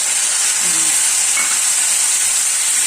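Peas and spices fry in a hot pan with a close, steady hiss and sizzle, and a few soft stirring scrapes come through underneath.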